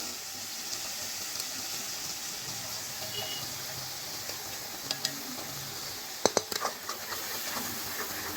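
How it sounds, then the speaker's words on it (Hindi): Spices frying on low heat in a pan for a village-style arbi (taro) leaf curry: a steady soft sizzle and hiss throughout, with a few clinks of stirring near the end. "इसलिए हम कम ही आंच में मसालों को फ्राई करेंगे"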